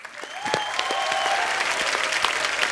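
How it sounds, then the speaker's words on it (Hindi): A TV studio audience on a comedy talk show bursts into loud, sustained applause after a short pause, with a few sharp claps and a faint tonal sweep riding over the dense clapping. "जोरदार तालियां"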